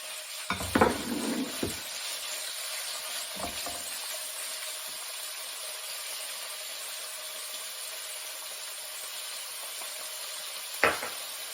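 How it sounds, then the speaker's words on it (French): Turkey breast frying in oil in a pan, a steady low sizzle under a few sharp clatters of utensil against pan near the start and once more at the end. "on va faire revenir notre blanc de dinde à la poêle dans de l'huile"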